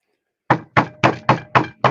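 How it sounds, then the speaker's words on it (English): Six firm, evenly spaced knocks strike a door at close range after a brief silence, each a crisp hollow thud with a short decay, and no voices are heard. "Somebody at the door, Simon."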